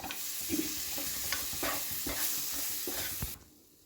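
Kudampuli fried with chilli powder and spices in a hot pan for a chempalli fish curry makes a steady sizzle, broken by repeated scraping stirs, then cuts off abruptly near the end.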